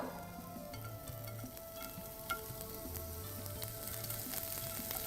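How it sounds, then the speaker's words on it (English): Ginger sizzles quietly in a small amount of hot oil in a pan, a soft, even frying crackle with a few light stirring clicks. "I am going to heat very little oil in a pan. I am going to add some ginger."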